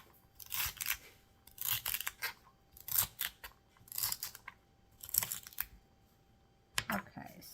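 Knife cutting pulled pork sandwich ingredients into small pieces, a series of crisp chopping and slicing bursts in uneven rhythm, close and fairly quiet.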